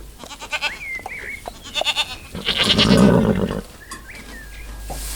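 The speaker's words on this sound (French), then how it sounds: "Les deux chèvres d'un improbable conte, confinées elles aussi dans un ridicule enclos" Two goats bleat in turn inside a small enclosure, with several wavering calls close by and a burst of broadband rustle or scuffling in the middle.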